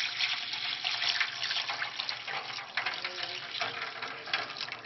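Hot water running from a tap into a cup, a steady hissing gush that holds even throughout, close and moderately loud with no talking.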